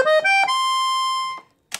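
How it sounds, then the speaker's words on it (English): A Beltuna Prestige IV piano accordion on its warm clarinet treble register, playing a quick three-note run up to one sustained reedy tone that fades out, followed by a brief soft click. "nice warm clarinet,"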